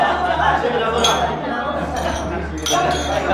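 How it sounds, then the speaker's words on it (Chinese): Glasses clink together in a toast at a banquet table, with a few bright chinks rising over overlapping voices and murmured chatter. "谢谢梁所长， 干杯"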